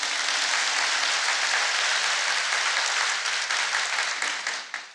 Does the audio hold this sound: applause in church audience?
yes